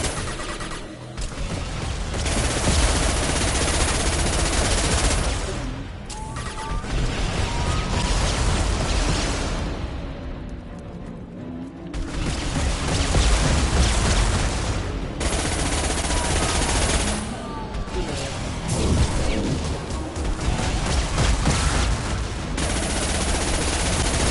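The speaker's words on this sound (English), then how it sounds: "Taking heavy fire." Heavy, sustained gunfire from a Mass Effect firefight, loud and dense bursts rattling almost continuously for the whole stretch, with only brief lulls between volleys.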